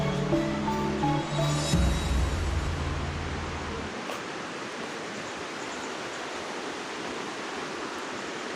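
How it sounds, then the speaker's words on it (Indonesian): The Tuntang river in rural Central Java gives a steady, even hiss of flowing water; a low droning hum sits over it for the first few seconds, then the water continues alone. "Ini ada sungai Tuntang ya."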